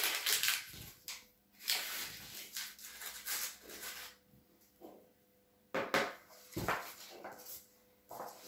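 Dry cookie ingredients (flour, vanilla sugar, baking powder) being mixed in a bowl at home, heard as irregular scraping and tapping strokes of moderate loudness with short pauses, no talking.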